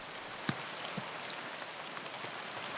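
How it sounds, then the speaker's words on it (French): Steady heavy rain pattering on a surface, a dense even hiss with a few louder individual drops standing out, no voices. "la pluie s'est encore intensifiée"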